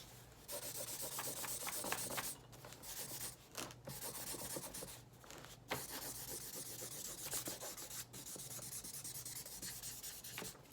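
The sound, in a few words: coloring on paper with a marker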